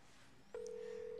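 A telephone ringing, heard as one steady electronic ring tone that begins partway in and holds, loud and close, with a short click near the start.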